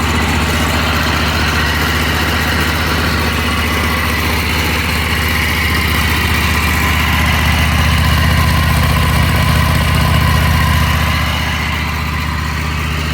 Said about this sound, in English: Is it the smoothest running mower in the world? No.